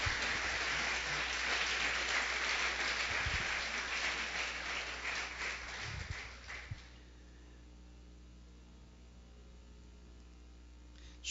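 Church congregation applauding the Lord during a family service, a dense, steady clapping that carries for about seven seconds and then stops, leaving quiet room tone.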